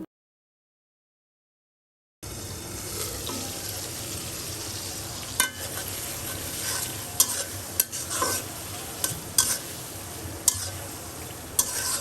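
Prawns fry in a covered pan for a red amaranth stir-fry. After about two seconds of silence, a steady sizzle sets in with occasional sharp clinks and scrapes, and nobody speaks.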